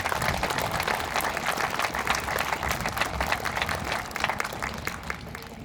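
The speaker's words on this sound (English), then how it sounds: "So please, one more round of applause for our sponsors." A festival audience at the Arkansas Cherry Blossom Festival applauding its sponsors, a dense, sustained wash of clapping from many hands lasting several seconds and fading slightly at the end.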